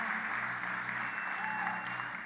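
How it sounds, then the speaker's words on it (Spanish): Church congregation applauds in a soft, continuous wash of many hands, heard faintly at a distance with a low hum underneath. "Le damos un aplauso de agradecimiento al Señor"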